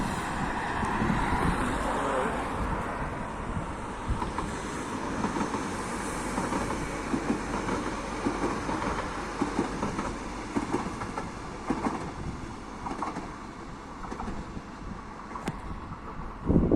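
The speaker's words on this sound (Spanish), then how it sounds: "Es un diésel. No, es el Civia 464." A Renfe Civia 464 train passes nearby, a loud, steady rumble with rail clatter and wind buffeting over about seventeen seconds, with no talk over it.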